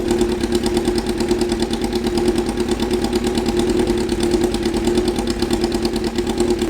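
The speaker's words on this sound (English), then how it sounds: "4 cylinders are running" A Honda CBR1000RR four-cylinder motorcycle engine, freshly rebuilt after a wreck, idles steadily up close with an even, fast pulsing burble and no talk over it.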